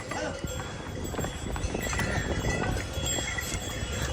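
Horses' hooves clip-clop along the mountain pilgrimage path below Gobind Dham on the Hemkunt Sahib route. Irregular steps mix with background crowd chatter and outdoor noise.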